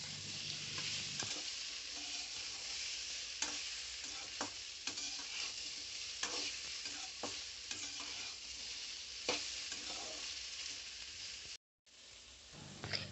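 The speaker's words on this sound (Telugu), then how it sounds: "పది నిమిషాలు బాగా వేగిందండి" Young okra fries in a pan for Andhra-style okra chutney, a soft steady sizzle and hiss punctuated by intermittent scraping stirs, close but fairly quiet, with a brief dropout near the end and no talking.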